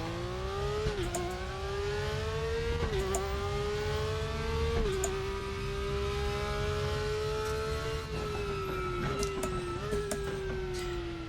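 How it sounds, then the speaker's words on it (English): A Porsche GT3 race car engine in the Raceroom racing game, loud and steady, climbing through the revs with brief dips at each gear shift, no talking. "full fat version of the GT3 engine always sounds like it's got a bit more urgency about it because it revs a bit harder"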